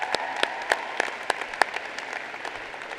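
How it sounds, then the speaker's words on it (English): Sustained applause from a large audience at a high school graduation commencement ceremony, a dense steady clapping with a few louder individual claps standing out, fading slightly toward the end. "She needs a round of applause, too."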